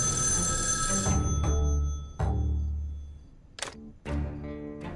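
An old-style telephone bell rings loudly in a TV drama scene, its sustained ring cutting off after about a second, then followed by a few sharp handling clatters.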